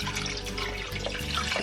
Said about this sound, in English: So we're going to add about 3 cups of water.